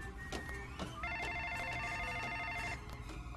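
Telephone rings in the Lego Jurassic World video game, a repeated electronic two-tone trill lasting nearly two seconds, with brief other game tones before it and a steady low background hum.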